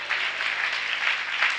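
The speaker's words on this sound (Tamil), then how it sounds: "கைத்தட்டி ஆண்டவரை மகிமைப்படுத்தும்." Congregation clapping in praise during a church service, a continuous, even wash of many hands close by, with no talk over it.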